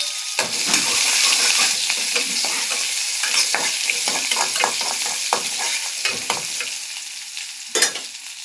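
Onion frying in a pan for plantain varuval: a loud, close, steady sizzle broken by repeated scraping stirs of a spoon, with a sharp clatter near the end.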